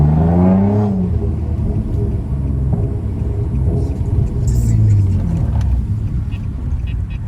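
A 7th gen Nissan Maxima fitted with a Gemini Performance Y-pipe drives along. It produces a steady, loud engine rumble with low droning tones and a brief rising rev near the start, heard alone throughout.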